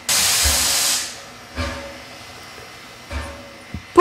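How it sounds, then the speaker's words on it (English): Steam hissing from a cartoon steam locomotive: a loud opening burst of hiss about a second long, followed by two shorter, fainter puffs at regular intervals. "But his driver shut his steam."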